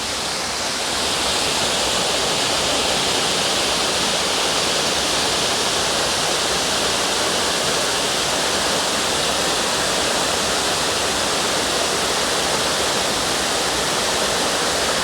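Little Shickshinny Falls in Shickshinny, Pennsylvania, a sizeable waterfall heard up close as a loud, steady, broadband rush of falling water that stays unbroken throughout.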